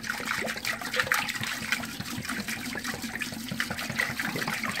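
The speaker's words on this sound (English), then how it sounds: "we're gonna dump it right in the back of the commode" Antifreeze poured steadily from a gallon jug into the back tank of a mobile home toilet, a continuous close gush and splash of liquid into water lasting the whole stretch.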